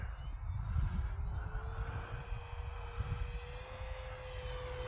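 An FMS P-47 radio-controlled model warplane makes a full-speed pass with the wind, its engine a steady whine at moderate distance over low wind rumble, pitch slowly shifting as it goes by.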